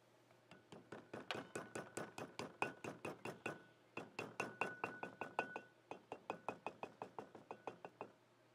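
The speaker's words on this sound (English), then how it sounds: "gently tap it into place using a hammer on the elevated side" A hammer taps repeatedly on a front wheel bearing seal of a 2WD Ford Ranger in quick, even bursts, dozens of light sharp knocks with brief pauses between groups, close and clear.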